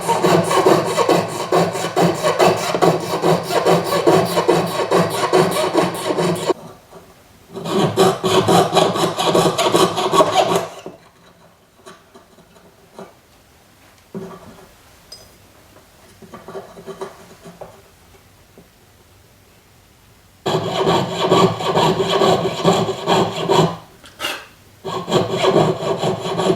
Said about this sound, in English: I'm not going to bother you with watching me do all this sawing.